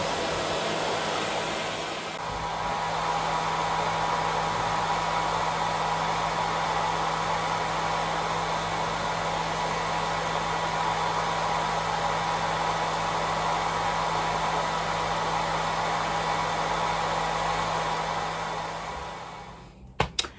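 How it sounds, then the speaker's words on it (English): A hooded hair dryer blows with a steady, loud whoosh and low hum for a long stretch, then switches off near the end. "It's like a dryer hood for your hair."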